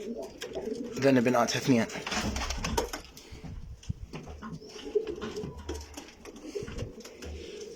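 Pigeons at a loft, including a hen with her two young, cooing repeatedly and close by while someone talks over and between the calls.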